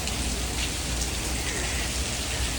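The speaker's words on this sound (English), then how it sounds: "Alrighty, it's still raining." Steady rain falls outside, a dense, continuous hiss of drops spattering on surfaces nearby with no breaks and no voices over it.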